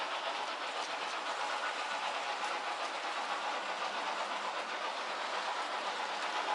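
A Bachmann model of the GCR class 11F steam locomotive hauls a long rake of Pullman coaches along a model railway track, giving a steady, even rolling whir that stays at one level throughout.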